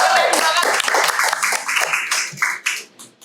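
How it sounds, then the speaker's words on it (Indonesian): A group claps and cheers after a student is announced as winning a scholarship, bursts of applause mixed with voices and excited chatter, fairly loud and close, fading toward the end. "kasih tepuk tangan yang dapat beasiswa"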